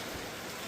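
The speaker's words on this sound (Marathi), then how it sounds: "आजही पाऊस आलाय" Rain falls steadily in a brief, even wash of hiss, a moderate broadband patter without distinct drops or voices.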